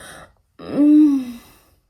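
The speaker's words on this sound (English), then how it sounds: "Finish with dramatic gasp." A woman gives a single dramatic gasp, a sharp voiced intake that swells into a drawn-out tonal sound and then fades, close and clear after a brief breathy sound and a short pause.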